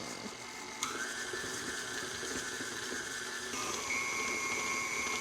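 An electric mixer creams butter and sugar together for pink velvet cupcakes, a steady whirring hum that shifts pitch slightly as the speed changes.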